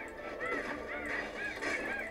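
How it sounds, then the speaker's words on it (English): Honking bird calls from the video game Bastion repeat in a quick series of nasal cries, faint under a low ambient bed. "Birds!"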